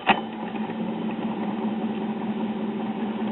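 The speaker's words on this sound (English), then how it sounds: "Now I hear the motor running." The motor of a 1950s ShuraTone record player runs as a steady, close mechanical hum with a faint whir. It begins with a small click and stays even throughout.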